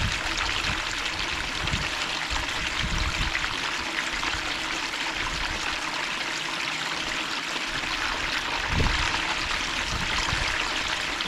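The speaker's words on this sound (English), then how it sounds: "I might hose a little bit more into that tray just to kind of safeguard us from that." Water from a hose pours steadily into a gold cube tray, a continuous splashing rush that lasts the whole stretch with small irregular surges, close and fairly loud, with no talk.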